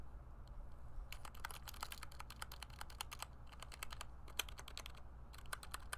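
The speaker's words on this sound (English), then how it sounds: "Those are the mouse clicks." Rapid, irregular clicking from a Red Thunder computer mouse held close to the microphone, crisp sharp clicks in quick bursts over a low steady background hum, no talking.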